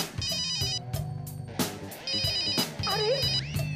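A telephone rings with repeated electronic trilling bursts, mixed with background music, and no one speaks.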